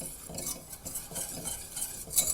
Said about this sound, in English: cook them together for about 2 minutes while I'm whisking it